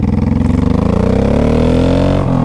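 A 2005 Honda Shadow Saber 1100 motorcycle engine revs loud and close, its pitch climbing steadily as it accelerates, with no voices.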